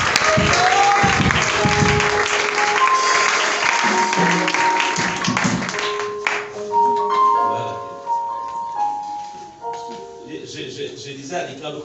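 A church congregation applauds and cheers for the Lord, with dense clapping that is loud at first and then thins out, while voices and music carry on underneath.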